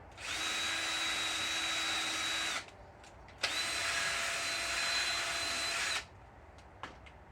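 A power tool polishes the groove of a universal joint on a 2000 Suburban front drive shaft, a loud whine in two bursts of about two to three seconds each with a short pause between, followed by faint clicks.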